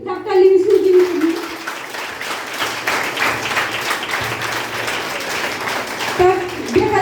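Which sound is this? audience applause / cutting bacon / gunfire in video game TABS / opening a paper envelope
audience applause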